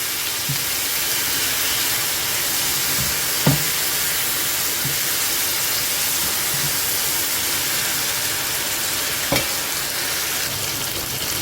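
Chillies fry in hot oil in a pan for a garlic chutney, giving a loud, steady close sizzle with a few sharp clinks of stirring and no voices.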